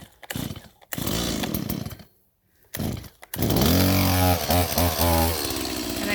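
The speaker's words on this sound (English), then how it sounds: "get the chainsaw going" A chainsaw is started and revved while clearing a gap between two trees for a new tree stand, loud and close, with a brief pause near the start before it roars back in steady bursts.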